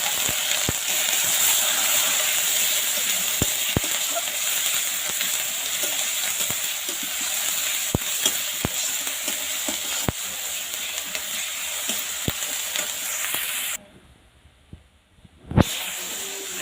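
Onions and spices sizzling in a pan for chicken curry, a steady close hiss of frying with scattered crackles and stirring clicks, cutting briefly to near silence before resuming.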